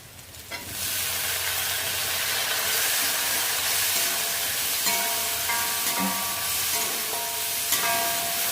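Chopped tomatoes hit hot oil with onion and green chilli for radish sambar, giving a steady, close sizzling hiss that holds evenly throughout with faint stirring clinks.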